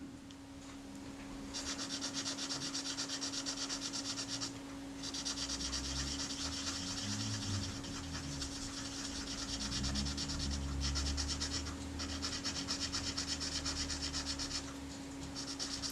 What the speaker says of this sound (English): The nice pretty black finish on the blades may well suffer if you're polishing them to this extent.